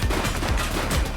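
Rapid bursts of gunfire in the police video game The Precinct, a dense, loud volley of overlapping shots crackling at close range.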